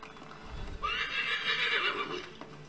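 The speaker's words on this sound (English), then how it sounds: "It's hard riding these little horses." A horse in a video game gives a long, loud, close whinny that rises and then falls away, with faint hoofbeats in the background.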